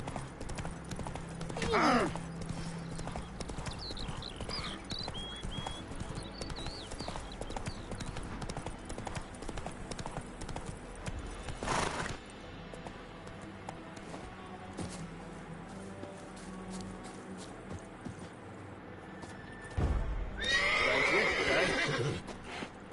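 Roach, the horse in The Witcher 3, gallops with steady rhythmic hoofbeats throughout and lets out loud neighs early and again near the end, with game music and brief voices in the mix.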